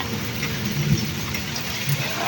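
Heavy rain pours down steadily in a village, a dense, even hiss of drops on surfaces close by with no voices.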